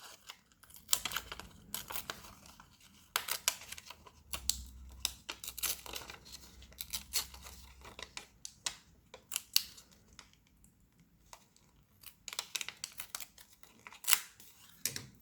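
Paper ephemera being torn for a travel journal, quiet crinkling and sharp tearing snaps in irregular clusters, close and faint with brief gaps between pulls.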